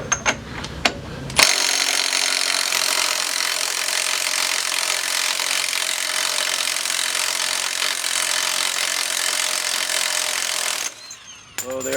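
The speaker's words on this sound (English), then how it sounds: "But I'm using an impact tool." An impact wrench spins off the CV axle shaft nut on a 2005-2014 Jeep Grand Cherokee front hub, a loud, steady buzzing whir running for about ten seconds before cutting off abruptly.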